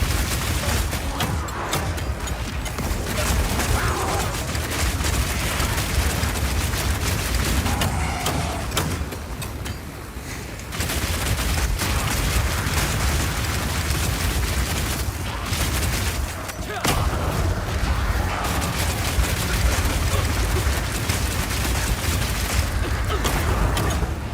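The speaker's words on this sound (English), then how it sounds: "Now I've been using explosive grenades here" Explosive grenades burst again and again in Path of Exile 2 combat, a dense, loud barrage of booms and crackling blasts layered over constant game noise for the whole stretch.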